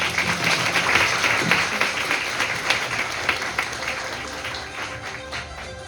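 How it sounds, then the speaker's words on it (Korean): Audience applause at the opening ceremony of a student Model UN conference in Korea, welcoming a guest speaker to the stage. Steady, dense clapping from a large crowd, sustained throughout and gradually tapering slightly toward the end. "회장님 앞으로 모실 때 큰 박수 부탁드립니다"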